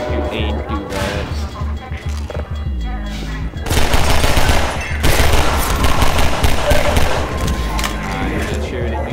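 Gunfire in the video game Half-Life 2, with dense rapid bursts and bangs that grow heavier partway through, while a player talks over the shooting.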